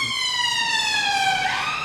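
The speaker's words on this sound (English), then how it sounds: "That was an ambulance." An ambulance siren wails outside as it passes, a loud, steady sweeping tone whose pitch drops toward the end.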